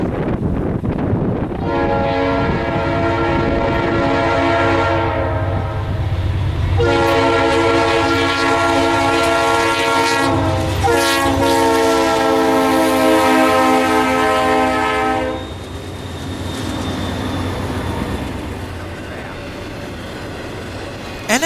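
An Ennis intermodal freight train led by GE C40-8W Ennis 8391, built in 1993, passes close with long, loud horn blasts in repeated bursts over a steady rumble of locomotives and railcars.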